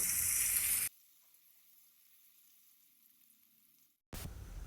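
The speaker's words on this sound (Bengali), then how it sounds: "তারপর এর মধ্যে দিয়ে দিলাম কেটে রাখা আলু।" Potatoes fry in hot oil with bay leaves, dried chili and whole cumin. A loud, close sizzle cuts off into near silence, then bursts back in at the end.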